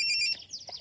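A telephone rings briefly in a Telugu movie scene: a short burst of high electronic ringtone tones, clear and close, then fading into quiet room sound with no talk.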